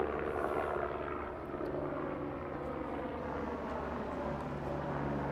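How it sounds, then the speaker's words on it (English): A helicopter flies over a rocket launch site, its engine and rotors making a steady loud broadband roar throughout, with no distinct beats or changes. "it's a helicopter rather than a drone doing those sweeping shots"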